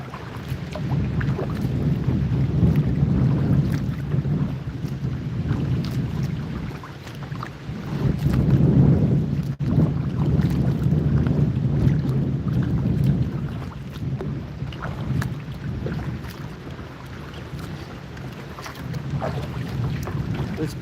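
Strong outdoor wind buffets the microphone in a steady, loud low roar that swells and eases in gusts, with no one talking.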